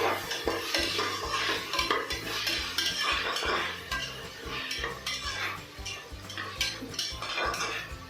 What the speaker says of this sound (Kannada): ರುಚಿಗೆ ತಕ್ಕಷ್ಟು ಉಪ್ಪು ಹಾಕ್ಕೊತಾ ಇದ್ದೀನಿ ಮಿಕ್ಸ್ ಮಾಡ್ಕೊಳ್ಳಿ